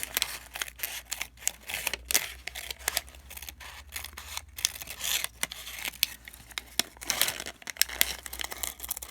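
Scissors snip steadily around a folded paper cupcake liner, with crisp crinkling of the paper between cuts, close and fairly quiet, with no talking.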